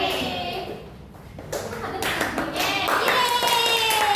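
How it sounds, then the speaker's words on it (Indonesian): Children in a classroom clapping for a classmate, scattered hand claps that build into a quicker burst, with kids' voices and an adult talking over them. "Tepuk tangan buat Lili"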